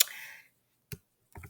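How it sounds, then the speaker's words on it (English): A few crisp, isolated clicks come from a computer keyboard and mouse at a desk. They are quiet and well separated, with silence between them. "You simply double click on this text and type"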